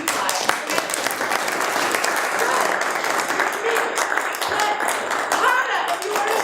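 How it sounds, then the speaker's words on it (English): An audience at a Sage Talks event in Orange County claps steadily for several seconds, a dense, even, fairly loud patter of many hands with no voices on top. "clap if you have ever been in a film where you cried"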